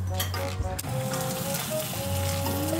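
Food grilling at a home birthday party sizzles steadily and loudly, a constant crackling hiss with a low hum underneath and faint clinks of utensils.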